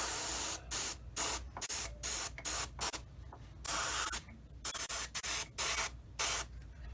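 Short bursts of gloss coat hiss from a spray can or airbrush onto a Tamiya 1/35 M3A1 scout car model, about a dozen close, even pulses separated by brief gaps, with no talking.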